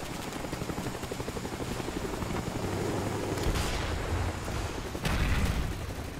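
In the video game Call of Duty: Black Ops, a Cobra attack helicopter's rotor drone runs under steady rapid gunfire, with louder bursts of firing midway and near the end, dense and continuous.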